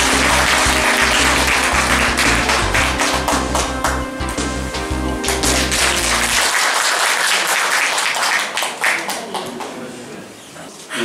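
An indoor audience at a political campaign rally claps loudly and continuously for several seconds. A low musical backing plays under the clapping early on, then drops out while the applause carries on alone.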